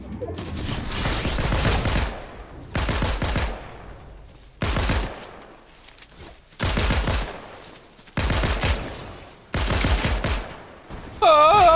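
Rapid bursts of gunfire from the hip in a shooter video game, about six sustained loud bursts separated by short pauses, mechanical clatter between them and a tonal effect at the end.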